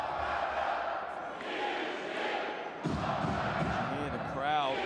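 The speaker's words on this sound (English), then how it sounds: "You hear the crowd making some noise." A basketball arena crowd at a Nizhny Novgorod versus Türk Telekom game roaring and chanting steadily, with a broad wash of voices that swells briefly, while a commentator talks over it.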